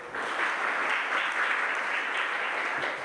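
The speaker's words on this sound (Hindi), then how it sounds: "बजा दी ताली, गए 1 मिनट।" An audience claps steadily at a religious discourse in Madavra, a dense even patter of many hands that stays at a moderate level throughout, with no talk over it.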